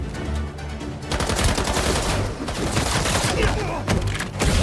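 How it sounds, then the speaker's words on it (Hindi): Rapid machine gun fire in the video game Spider-Man 2, dense continuous bursts of shots layered with impacts and thuds, loud and close throughout the short stretch. "बहुत गोलियां चला रहा है"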